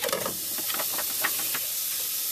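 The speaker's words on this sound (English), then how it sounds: "First we're going to fry up some bacon" Bacon strips, about eight fatty pieces, sizzle and crackle steadily in a frying pan, a continuous close hiss with scattered pops throughout and no talking.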